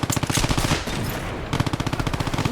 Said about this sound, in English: Wanker's shooting at me!